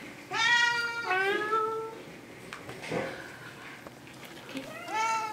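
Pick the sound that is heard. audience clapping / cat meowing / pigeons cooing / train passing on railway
cat meowing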